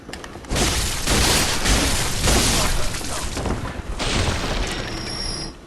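A cannon booms in the game Bloodborne, a loud rumbling blast followed by repeated heavy explosive bursts and a mechanical clatter, with a faint voice underneath.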